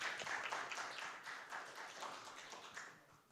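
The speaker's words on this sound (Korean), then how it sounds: "따뜻한 박수로 맞아주시기 바랍니다." An audience at a launch ceremony for a Samsung mentoring program for young adults leaving care gives soft, dense applause to welcome a speaker, a faint, even wash of many hands clapping together with no voices.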